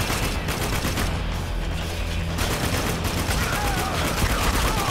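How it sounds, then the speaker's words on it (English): Sustained machine gun bursts and scattered gunfire crackle loudly and densely in the Spec Ops: The Line video game during a cooperative firefight, with a brief lull partway through before the shooting resumes. "No, I got a machine gun, man."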